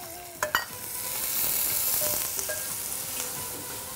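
Onions, green chillies, curry leaves and cloves fry in hot oil for a bagara mutton pulao. A close, loud sizzle swells and holds, marked by a couple of early stirring knocks.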